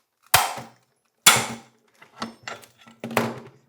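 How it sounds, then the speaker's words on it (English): Sharp metallic hammer blows ring out on a flywheel nut of a 212cc engine, two heavy strikes followed by a quicker cluster of lighter taps, close and loud against quiet. "give it some pressure, and then hit this with a hammer"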